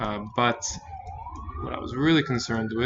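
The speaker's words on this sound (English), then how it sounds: "sorry for the sirens in the back" A siren wails in the background on a Brooklyn street, its tone sliding up and down, while someone talks over it.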